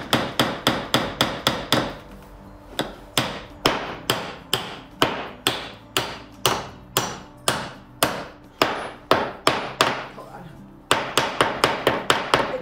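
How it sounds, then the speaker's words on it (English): Rapid bursts of sharp hammer blows drive nails into a new kitchen window frame during a farmhouse renovation, loud and close, falling in quick rhythmic runs broken by brief pauses. "I haven't hammered a nail in a hot minute."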